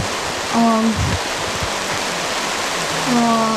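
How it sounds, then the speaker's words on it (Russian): Steady rain falls continuously as a dense, even hiss, with a brief voiced sound and a second one near the end rising over it. "потому что такой классный дождь"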